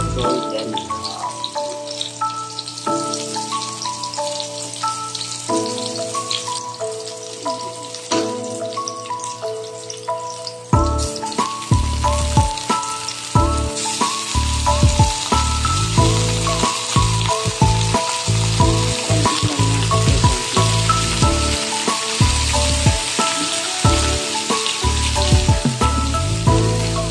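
Garlic and onion sizzle and crackle in hot oil as they fry toward golden brown, a loud continuous hiss with sharp popping that grows busier partway through.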